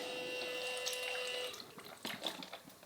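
Tap water runs into a sink while a plate is rinsed: a steady hiss for a moment, then sparse splashes and drips, faint and close.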